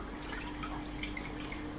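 Freshly washed amaranth leaves are set aside to drain, and water drips from them in faint, scattered drops against a quiet background.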